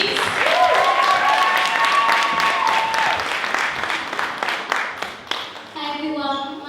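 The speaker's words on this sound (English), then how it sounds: "A round of applause for Kenya, please." Audience applause at a talk event, a dense burst of clapping from a crowd that tapers off, with a voice speaking over it near the end.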